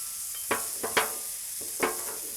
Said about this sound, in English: Just gonna keep stirring it, make it cook evenly.